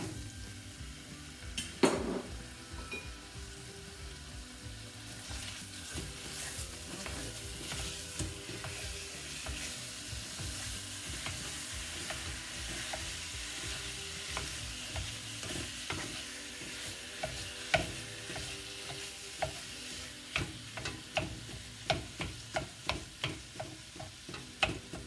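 Zucchini sizzles in a pan as ground beef goes in, a steady, soft frying hiss running the whole time with scattered clicks and taps of a utensil, growing more frequent toward the end.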